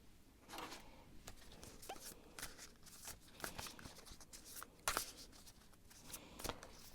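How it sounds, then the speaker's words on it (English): Tarot cards being shuffled by hand during a card reading, soft, quiet riffling and sliding with irregular crisp flicks, close and faint. "But I'm going to shuffle a little bit."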